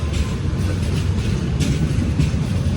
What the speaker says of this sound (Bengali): আন্তনগর বিজয় এক্সপ্রেস ছেড়ে আসলো আখাউড়া জংশন থেকে